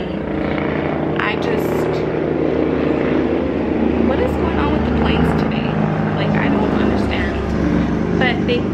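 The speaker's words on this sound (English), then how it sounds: "what is going on with the planes today?" Aircraft passing overhead outdoors, a broad continuous engine roar that holds steady throughout with no speech audible over it.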